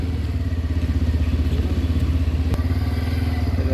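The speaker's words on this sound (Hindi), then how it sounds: "तो अभी पार्किंग में लगाएंगे बाइक" A motorcycle ridden slowly into a parking area at a shrine, its engine a close, steady, loud low putter with a fast regular pulse, a brief clatter near the middle.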